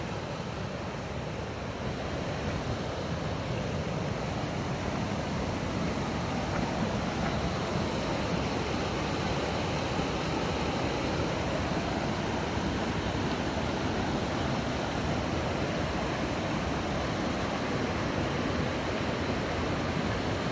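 A waterfall and creek on the Appalachian Trail rush steadily with dense, unbroken white noise, loud and close for the whole stretch with no voices.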